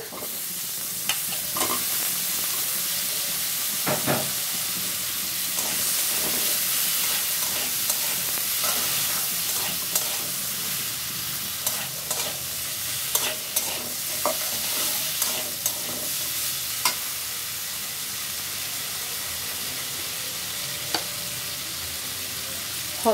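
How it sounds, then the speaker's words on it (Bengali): Potatoes and cucumber with a little turmeric frying in oil tempered with black cumin in a wok, a soft steady sizzle with occasional scraping stirs and light clicks of the spoon against the pan. "এখন দিয়ে দিব অল্প একটু হলুদ, দিয়ে দিব আলু আর শসা"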